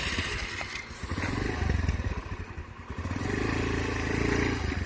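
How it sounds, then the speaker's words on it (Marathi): Scooter engine revving up under throttle during a beginner's riding lesson, a steady close motor drone that rises and swells over a few seconds with some clattery mechanical noise. "थोडासा एक्सलेटर आणखी वाढवा"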